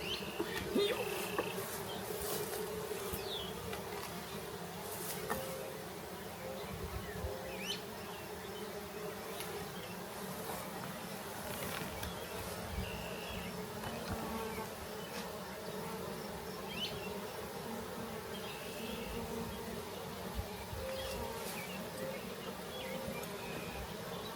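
Honey bees buzz constantly around an open hive during an apiary inspection, a dense close swarm hum with individual insects zipping past, and a faint voice occasionally underneath.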